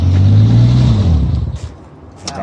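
A Toyota Supra that sat unused for ten years roars loud and close as its engine revs hard, then the throttle drops and the sound fades toward a rough idle.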